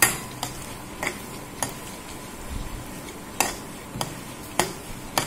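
Almonds frying in hot ghee while a utensil stirs them in the pan, giving light intermittent clinks and taps over a soft steady sizzle, close and fairly quiet.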